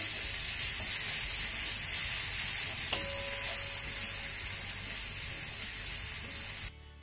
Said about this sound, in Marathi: आता ही फोडणी आपल्याला चांगली परतून घ्यायची आहे।